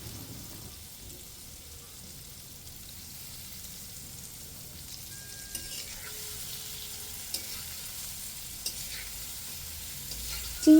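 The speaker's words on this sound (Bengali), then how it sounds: "ম্যারিনেট করা হয়ে গেলে চিংড়িগুলোকে ভালো করে ভেজে নেব।" Marinated prawns fry in hot oil with a soft, steady sizzle, broken by a few light clicks from the pan.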